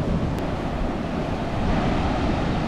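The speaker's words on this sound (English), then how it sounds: "The size of the waves, babe." Ocean surf washes onto a busy Phuket beach, a steady, dense roar of breaking waves mixed with wind buffeting the microphone, with no voices.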